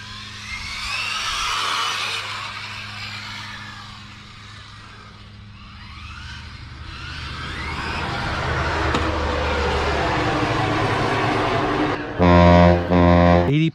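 A stock Rlaarlo RC car speeds past in repeated high-pitched whining electric-motor passes that rise and fall with distance, ending in a loud rumble close by.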